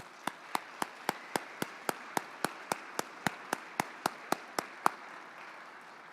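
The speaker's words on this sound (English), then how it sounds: "So a round of applause to the families," A banquet audience at a fire department awards and retirement dinner applauds firefighters' families: a steady run of about seventeen sharp, evenly spaced claps over a low room murmur, fairly distant and moderate in level.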